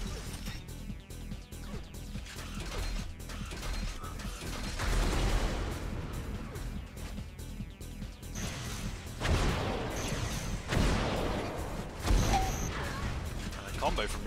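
Rocket fire and explosions in an Unreal Tournament match, heavy blasts and crashes landing in bursts over constant game noise while a commentator talks.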